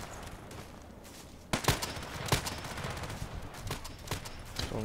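Gunfire in a sniper video game: a sudden sharp shot followed by several more crisp cracks and bursts over a continuous hiss of game ambience.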